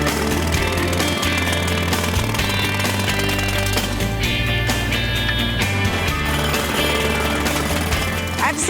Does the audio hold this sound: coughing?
no